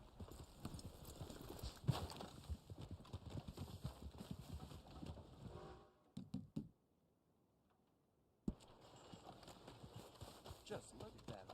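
Horse hooves clip-clop in the video game Red Dead Online, a busy rhythmic patter of hoofbeats with a sharp knock, dropping to near silence for a couple of seconds before resuming at the same pace.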